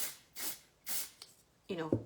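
Three short bursts of makeup setting spray, each a brief airy hiss with quiet gaps between, followed by a moment of low voiced sound.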